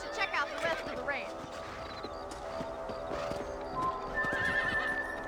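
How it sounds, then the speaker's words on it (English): Horse in the Red Dead Redemption video game, with quick clip-clop hoofbeats on the ground, a whinny and a jump while galloping, mixed with game sounds and someone speaking over it. "Also mit X springt das Pferd."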